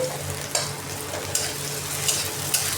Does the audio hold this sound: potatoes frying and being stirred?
yes